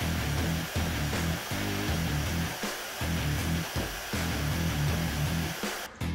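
Portable bandsaw cutting 1/4 inch flat steel bar on a stand: a loud, steady motor drone with a pulsing, slightly wavering grind as the blade works through the metal, running throughout with no talk.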